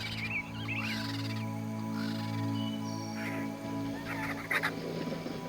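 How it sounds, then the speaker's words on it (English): Birds calling from tall trees in the Everglades, honking and squawking cries scattered over a steady background drone, moderately loud and fairly close, with no speech. "These trees are filled with birds, both predators and scavengers."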